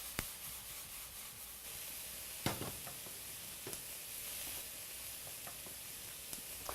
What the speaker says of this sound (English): Let those onions cook for a second.